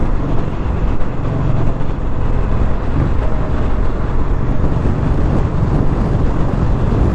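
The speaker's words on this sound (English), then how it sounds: "Listen to that motor making a little bit of noise." A 2021 Indian Scout Bobber motorcycle engine pulls hard through a gear on a demo ride, a steady, loud, rumbling drone with wind rush that holds without a break for several seconds.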